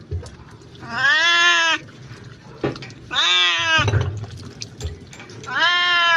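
A pet cat being bathed lets out three long, loud, drawn-out yowling meows close by, with splashing and handling noises between the cries.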